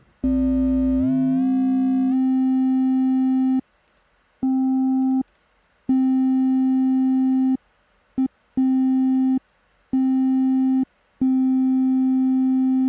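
A steady FM synthesizer tone with a raised modulator frequency, sweeping up at the start, then sustaining with bright overtones, cutting on and off in short, uneven bursts.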